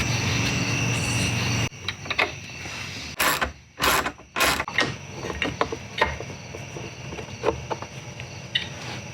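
T40 Torx bolts are backed out of a Jeep Gladiator panel with a ratcheting hand tool, giving close bursts of clicking ratchet strokes and metallic rattles between pauses.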